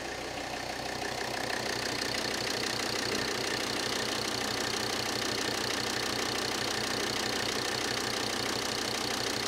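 An engine idles steadily on its own, ticking over with an even, rapid mechanical pulse throughout and no talk over it.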